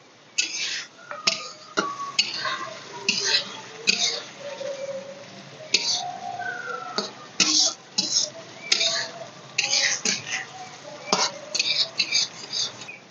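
Aar fish being stir-fried with ground spices in a pan, giving soft stirring scrapes and clinks of a utensil against the pan over a low sizzle, in repeated bursts.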